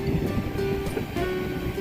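Strong ocean waves crash on the shore in Samar with a steady, rushing roar, mixed with wind buffeting the microphone during a brief stretch.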